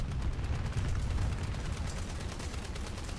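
Dense, continuous anti-aircraft gunfire from a video game rattles without pause as self-propelled guns shoot at swarms of biplanes, loud and rumbling throughout.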